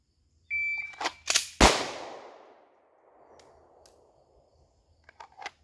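A handgun drawn, racked and fired at seven yards during a shooting drill: a few quick mechanical clicks and a slide rack, then one sharp, loud shot that rings out and decays, followed by faint clatter.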